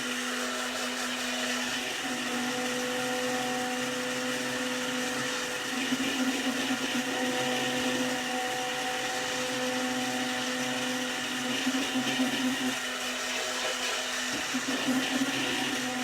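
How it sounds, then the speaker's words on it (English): A blender whirs steadily, blending coconut with low-fat milk into batter for a steamed pandan cake. The motor drone is loud and continuous throughout, with slight surges in pitch and no talking. "you really want to blend it so it's very smooth"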